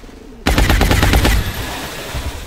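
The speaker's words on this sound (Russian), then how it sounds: "Двойной выстрел" A sudden loud burst of rapid gunfire in XCOM: Long War, about eight sharp shots in quick succession, then fading echo and a low background hum.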